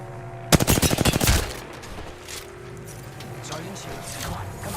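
Rapid automatic gunfire in the Apex Legends video game, a tight burst of about a dozen sharp shots early on, then quieter game ambience with faint scattered sounds.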